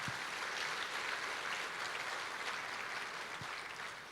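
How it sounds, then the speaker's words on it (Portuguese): A church congregation applauding together, a steady wash of clapping from a crowd, moderately distant and fairly quiet, with no talk over it. "Então dê um aplauso ao Senhor."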